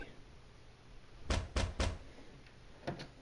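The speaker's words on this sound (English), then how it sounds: "Then a knock was heard." Knock on a door from the video game The Great Ace Attorney Chronicles: three quick, muffled raps in a tight cluster, then one softer knock a moment later, set against a quiet, hushed background.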